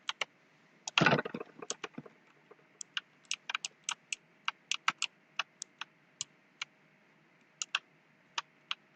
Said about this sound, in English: Sorry if my keyboard is loud.